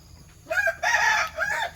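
Chickens in a grandmother's backyard coop, with a rooster crowing in three close, loud bursts over a low background hum; no one speaks.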